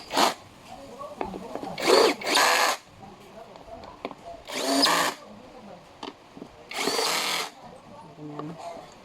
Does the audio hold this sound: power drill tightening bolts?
yes